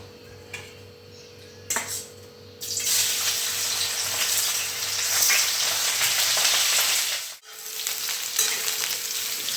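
Vegetable slices frying in oil in a home kitchen pan, a loud steady hiss and crackle that starts after a few seconds, briefly drops out, then resumes, with no talking.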